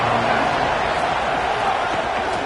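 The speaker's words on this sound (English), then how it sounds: "This crowd trying to make life miserable for this offense." A stadium crowd at a Florida versus Alabama college football game makes a dense, constant roar that fills the space, loud and unbroken throughout.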